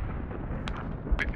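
Artillery fire in the military shooter game Squad: a couple of sharp distant blasts land near the end of a steady low background rumble, with no speech over them.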